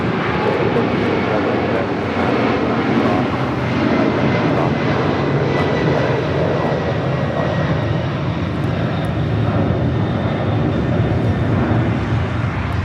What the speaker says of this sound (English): Gianna Cargo heading to SFO in the 747-400.